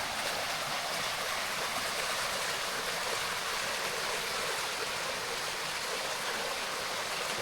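A creek flows steadily near Railay Beach in Krabi, Thailand, a constant close hiss and rush of water with no pauses and no voices.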